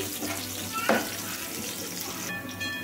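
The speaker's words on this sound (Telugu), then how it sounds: "కట్ చేసి పెట్టుకున్న పచ్చిమిరపకాయ ముక్కలండి. ఇవి కూడా లైట్గా వేగాలి." Chopped green chillies sizzle lightly in hot oil in a pan, a steady soft frying hiss with a brief brighter crackle near the middle and no talk.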